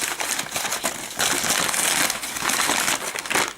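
Crinkling and rustling of waxed, paraffin-coated technical paper being handled, pulled from the packaging of new BELMA car horns for an FSO Polonez 1500; a steady, close, dense crackle of paper with no talking.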